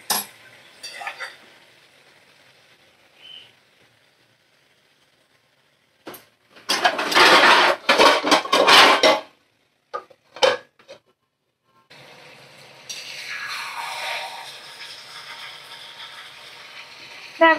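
Mutton stir-fried with spices in a pan, a spoon scraping and clinking against the metal in loud bursts, then a steady sizzle from the pan, with quiet stretches in between.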